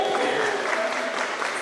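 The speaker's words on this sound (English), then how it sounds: "A little applause is okay too and warranted." A community crowd applauds briefly at an annual spring gathering event, with steady, even clapping close by and faint voices underneath.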